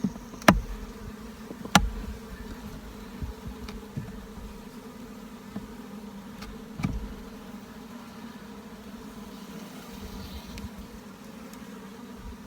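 Honeybees inside a hive feeding on open syrup in a feed frame, a steady low buzzing hum with a few sharp knocks and clicks of handled wooden frames near the start.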